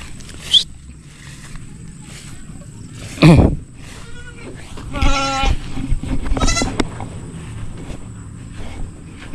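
Goats bleat on a Philippine farm, several loud, wavering calls spread across the stretch, close by, with quieter rustling and a few distant animal sounds between them.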